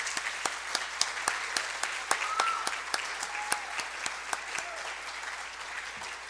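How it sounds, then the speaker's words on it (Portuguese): At a formal ceremony marking 35 years of the Jequitibá scout group, the audience gives the scout leaders sustained applause: a dense bed of many hands clapping, with sharp individual claps punctuating it at close range. "queria levantar uma salva de palmas para todos os escotistas"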